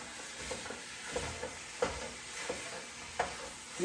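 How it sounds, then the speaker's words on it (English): Vegetables and sausage sauteing on a stovetop for stuffing, a low steady sizzle with a few spoon scrapes and stirring clatters, close and moderately quiet, no one talking. "we're going to saute up our vegetables with all our sausage"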